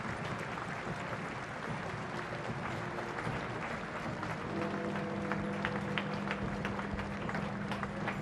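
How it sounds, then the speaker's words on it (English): Crowds lining the pavements near Parliament Square and the Palace of Westminster applaud Queen Elizabeth II's funeral cortege, a steady, dense wash of clapping from many people that swells slightly partway through, with a low rumble beneath. "As the cortege approached Parliament Square and the Palace of Westminster, the applause from the pavements swelled."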